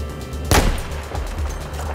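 A single sharp gunshot rings out in Battlefield 4, a loud close crack followed by a short rumbling tail over quiet game background.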